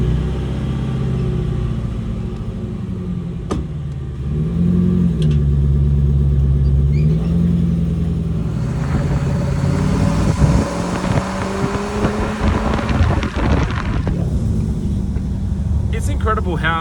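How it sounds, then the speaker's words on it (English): A Ford F250 pickup drives on the road with a quiet exhaust, its low engine rumble rising and falling as it accelerates, while people talk over it. "we're finally gonna take this thing for a spin and see if it sounds any louder on the road"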